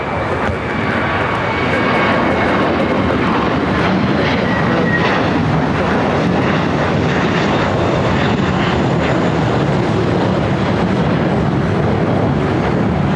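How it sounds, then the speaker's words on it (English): A FedEx Boeing 767-300 freighter from Memphis lands on runway 25 Left at LAX with a loud, sustained jet roar that rises within the first two seconds and then holds steady, with no voices. "We do have a FedEx 767-300 freighter coming in from Memphis. That is the next arrival"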